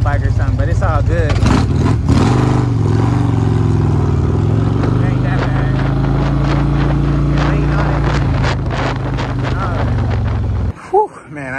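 Harley-Davidson Road King CVO with low bars and no fairing or windshield, ridden at steady speed; a loud, continuous engine drone mixed with heavy wind buffeting runs throughout, then cuts off abruptly near the end.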